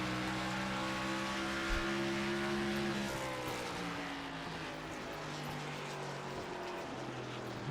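Race cars, including a Toyota Supra, roaring around a track: a continuous engine drone with several overlapping pitches rising and falling as cars pass, heard from a distance.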